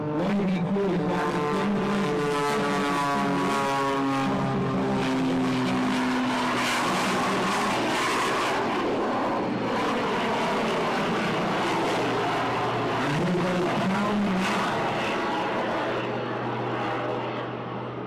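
An aircraft flies a display routine at an airshow in Ayr, Scotland, its engine a loud, continuous drone that rises and falls in pitch for the whole stretch, with steady whooshing air noise beneath.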